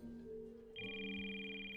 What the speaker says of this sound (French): désolé, c'est mon téléphone.